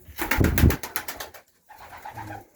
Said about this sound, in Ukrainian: Ось красива голубочка.